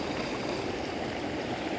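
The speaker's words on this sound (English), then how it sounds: "I mean, it's definitely a current below the surface of the water." Creek water flowing as a current around a pair of boots, a steady close rushing and gurgling wash with no pauses.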